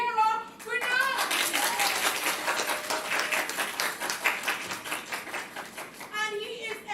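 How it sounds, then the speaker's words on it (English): A graduation production audience applauds steadily for several seconds, dense clapping filling the space, with brief voices at the start and end. "I urge you to be acclaim and applaud for my esteemed coach here in Sir Piero Bernard."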